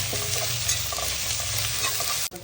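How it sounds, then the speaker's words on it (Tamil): Ginger garlic paste sautéing in a hot pan gives a loud, dense, continuous sizzle with faint stirring scrapes underneath, cutting off sharply near the end. "அடுத்து அது கூட வந்து இஞ்சி பூண்டு பேஸ்ட் ஆட் பண்ணிக்கோங்க"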